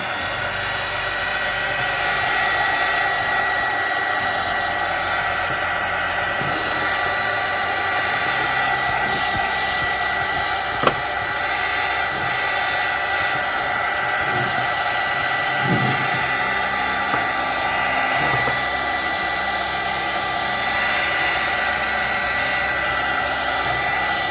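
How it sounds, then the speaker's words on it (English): A heat gun drying paint blows continuously with a loud, steady airy whir that holds unchanged for a long stretch, with a few faint clicks beneath. "I'm going to take my heat gun, which I use."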